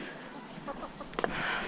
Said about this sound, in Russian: Куры вон суетятся.